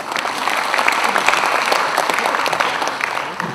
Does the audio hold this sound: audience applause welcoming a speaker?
yes